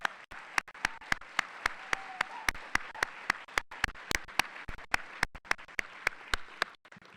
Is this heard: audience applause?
yes